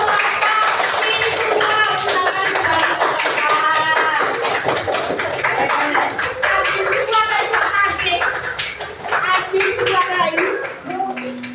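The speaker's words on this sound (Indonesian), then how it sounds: "kita beri tepuk tangan untuk" Children in an Indonesian classroom clap together in a steady, patterned rhythm while chanting along, a loud, close, lively burst of hands and young voices.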